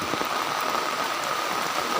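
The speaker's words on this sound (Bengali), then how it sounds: "দেখো এখন বৃষ্টিটা বৃষ্টি পড়ছে" Heavy rain pouring down outdoors, a dense, constant roar of drops hitting surfaces, loud and close with no pauses and no voices.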